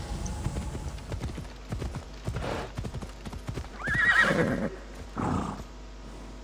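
Rhythmic hoofbeats clip-clop throughout from a horse in the video game Assassin's Creed Odyssey, joined by a couple of loud, shrill horse whinnies near the middle and end.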